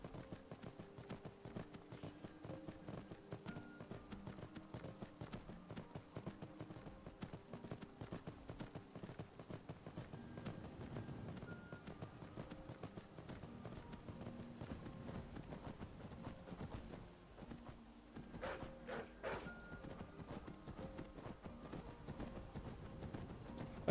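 A horse's hooves clip-clop at a steady walking rhythm in the video game Skyrim, faint and repetitive, with a thin game ambience beneath and a brief higher tone partway through.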